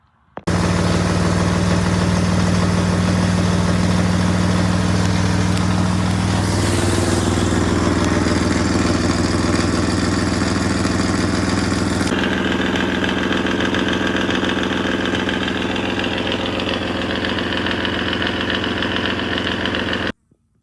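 A 1927 Bugatti engine idles steadily and continuously, a low rumbling hum with a shift in tone partway through, fairly close and loud, with no talking.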